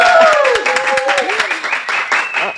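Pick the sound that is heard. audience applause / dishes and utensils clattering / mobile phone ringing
audience applause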